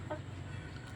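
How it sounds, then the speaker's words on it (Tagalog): A native labuyo chicken, a Philippine jungle fowl, gives a short burst of cackling near the start, then a low steady murmur of farmyard background continues without talk. "Oh, so nagkakakak na siya."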